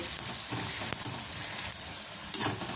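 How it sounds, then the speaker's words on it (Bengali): Masala puris deep-frying in hot oil, heard as a dense, close crackle and sizzle with scattered pops throughout. "তেল লুচিগুলোকে ভেজে নেব।"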